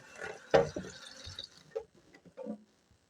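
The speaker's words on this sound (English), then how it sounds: "and water this too." Water pours onto a potted lemon-lime philodendron, a close splash and trickle into soil followed by a few scattered drips and small pours, with no talking.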